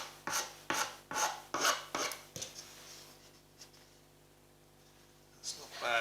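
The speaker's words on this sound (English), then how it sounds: "this thing cuts really fast, even on the less coarse side" Wood being filed with a rasp for a shamisen build, about seven quick rhythmic rasping strokes up close, then a quieter pause and a final stroke at the end.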